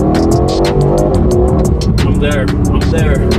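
A 2021 Aston Martin Vantage downshifts and accelerates hard, its engine note rising and revving loud and close for a few seconds, with brief tire noise under the roar.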